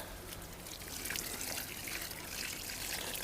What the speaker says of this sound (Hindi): साथ में हमको डालना पड़ेगा पानी